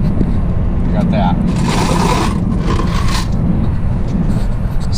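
Quarters collected from a vending machine clink and jingle briefly under a steady low background rumble while a person talks nearby.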